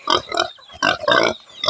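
A grown pig being raised for sale grunts and oinks close by in a few rough, separate bursts with short gaps between them, loud and alone with no talking over it.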